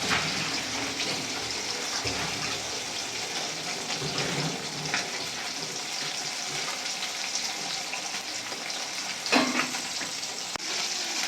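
Bata fish fry two at a time in hot oil in a pan, giving a continuous crackling sizzle with small pops and a brief louder splutter near the end, and no talking.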